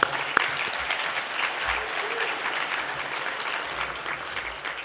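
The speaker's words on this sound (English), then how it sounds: "How about the moms clap? Just clap real quick, okay?" A luncheon audience claps for the mothers in the room, a steady, dense round of applause from many hands that holds evenly throughout.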